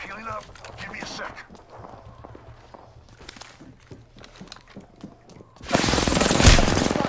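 Gunfire in Apex Legends, a sudden loud burst of rapid shots near the end after quieter footsteps and movement sounds, with a voice talking over the early part.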